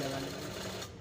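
Rapid mechanical whirring of a sewing machine stitching along the edge of trouser fabric, a dense buzzing burst lasting about a second before tapering off.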